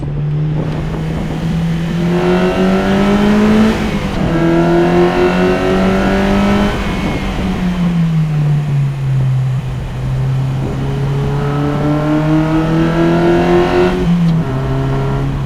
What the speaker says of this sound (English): the induction howl is everything. I absolutely love how loud and resonant it comes into the cabin.